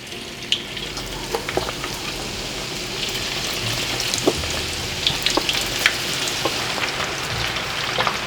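Batter-coated chicken pieces deep-frying in hot oil for Hat Yai style fried chicken, a steady dense sizzle with occasional sharper pops and crackles throughout, close and continuous with no talking.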